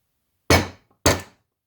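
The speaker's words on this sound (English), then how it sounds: "So I've hammered the end of the barrel kind of on my palm and on the bench" The end of an Armscor M1600 rifle barrel strikes a palm and then a bench, two sharp separate thunks about half a second apart, close and crisp against silence.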